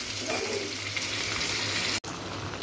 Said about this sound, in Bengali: আমি মাছটা হালকা করে একে একে ভেজে নেব।